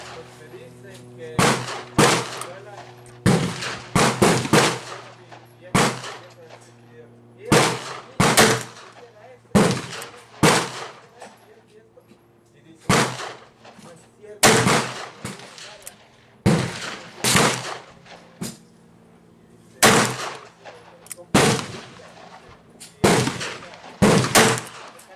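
Rossi 461 .357 revolver firing 213 grain lead round-nose bullets at a target 25 yards away on an outdoor range, a series of loud, sharp close shots in uneven groups with pauses between them.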